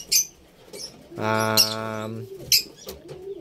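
African lovebirds kept as breeding pets give a few sharp chirps and one longer harmonic call, heard close and alone against a quiet room.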